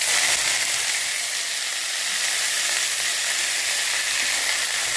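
Chopped green chilies, curry leaves and onion sizzle steadily in hot oil in a pan, a loud, continuous close-up frying hiss with no pauses.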